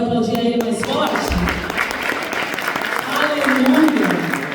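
Congregation at a church worship service in Portugal applauding steadily for several seconds, a broad wash of clapping that swells toward the end, with voices mixed in.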